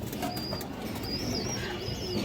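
A pair of Bezi pigeons coos softly amid a loft full of birds, low murmuring calls running steadily through a constant background hum with faint higher chirps over it.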